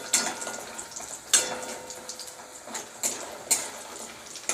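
Raw banana pieces fry in a pan, a steady close sizzle broken by several sharp clatters and stirring scrapes spaced a second or so apart, with no talk.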